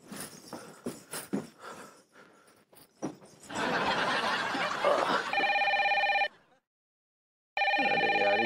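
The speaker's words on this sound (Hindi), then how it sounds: "अरे यार इतनी रात को किसका फोन आ गया?" A telephone rings late at night indoors, a loud repeating electronic trill in two bursts with a short silent gap between, following a stretch of laughter and chatter.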